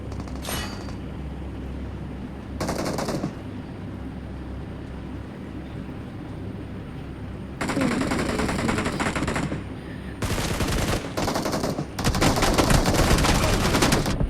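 Gunfire in the mobile battle royale game BGMI, heard as several loud bursts of rapid automatic fire separated by short pauses over a constant game background hum, with no voice over it.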